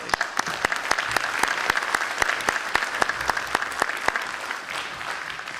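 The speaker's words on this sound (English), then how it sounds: "round of applause to" Applause from the audience at a technology town hall meeting: a fairly small crowd claps, with a few sharp, distinct hand claps standing out over the steady patter, fading gently toward the end.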